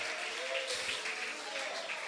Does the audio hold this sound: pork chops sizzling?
no